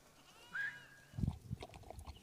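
A lame goat on a mountain grazing route gives a short, thin bleat, followed by low shuffling and handling noises close by.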